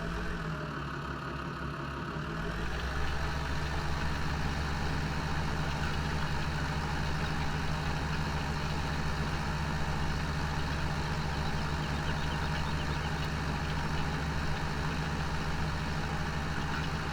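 A tractor engine in Farming Simulator 17 runs steadily, a loud continuous mechanical drone that rises slightly in pitch after a couple of seconds and then holds level.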